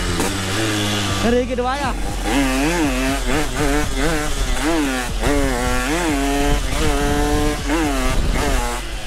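A Yamaha RX King two-stroke motorcycle revs hard, its engine note rising and falling in repeated throttle bursts, loud and close, while someone talks briefly over it.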